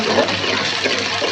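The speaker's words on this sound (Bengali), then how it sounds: "একটু পানি দিলাম আমাদের" Water splashes into a hot cooking pan during a Bengali curry of shrimp with sweet pumpkin and beans, a loud, continuous rushing pour lasting just over a second.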